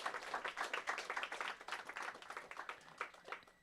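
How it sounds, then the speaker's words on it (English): A small audience claps for a discussion panel, the individual hand claps distinct and uneven, a modest round of applause that rises and falls without speech. "let's give them a round of applause"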